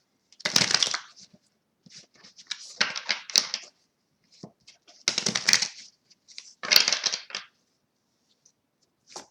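A deck of tarot cards is shuffled close by in several short riffling bursts, with crisp flutters separated by quiet pauses.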